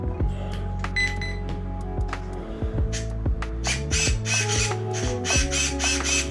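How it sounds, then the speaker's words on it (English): Quick whirring and clicking bursts of the steering servo on a Tamiya Top Force EVO RC car moving back and forth, close up, with short electronic chirps and rapid repeated movements. "See that servo? Quite fast."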